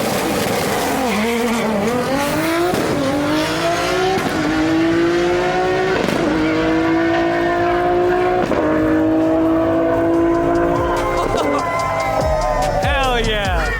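A 1500-horsepower Nissan Skyline R32 GT-R engine is revved on its first start: loud, close, rising and falling wails that repeat over a constant rumble.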